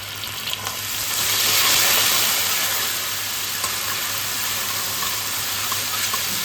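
Whole spices with cumin and garam masala sizzle in hot oil for a vegetarian paneer curry, a close, steady frying hiss that swells as ginger paste goes into the pan and then settles into a constant crackle.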